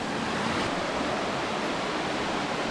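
A waterfall pours steadily down Tai Shing Stream, a rocky mountain stream in Hong Kong. The broad rushing roar stays constant and close throughout, with no voices.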